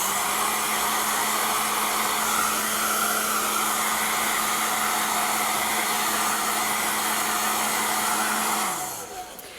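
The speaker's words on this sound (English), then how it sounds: "I'm gonna hit this with my hairdryer really quick" A hair dryer blows steadily on a mixed media painting, a loud continuous whoosh with a low motor hum that runs without pause and then winds down and cuts off near the end.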